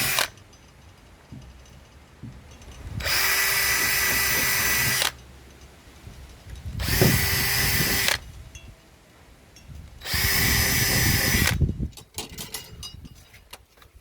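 A power drill bores through thin 0.4 mm sheet metal on a VW, making a pilot for self-tapping screws: three sustained loud whirring runs of about two seconds each, separated by pauses, with a faster, higher-speed run among them.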